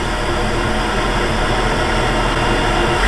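A Mk6 Volkswagen Golf R engine with a custom intake gives a steady, broadband roar at an even level throughout, close and loud, with no clear start-up or revving.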